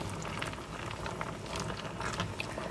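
Cut zucchini pieces simmer in a pot, cooking down for a mock apple pie; a steady, soft bubbling hiss with faint pops runs evenly and close throughout.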